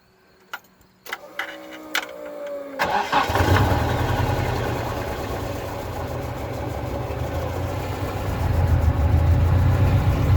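A Nissan KA24 engine fitted in a Toyota AE86 cranks over, catches and starts, then settles into a loud, rough idle close by. A few clicks and clunks come before the start, and the revs swell toward the end.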